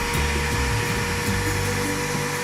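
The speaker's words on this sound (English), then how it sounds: "I'll find a vacuum. Better be a strong one." Strong vacuum steadily sucking old fuel out of a Ford Model A fuel tank, a continuous loud whining drone with gurgling low rumble, close up.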